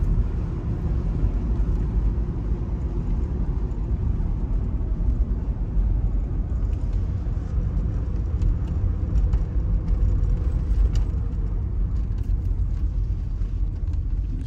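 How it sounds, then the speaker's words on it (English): A low-mileage 1991 Buick Reatta drives along with a steady, muffled cabin rumble of engine and road, the transmission shifting smoothly with no distinct clunks, heard continuously and evenly from inside the car. "Everything is very nice and tight on the drive. Transmission, downshifts, upshifts, every way it should."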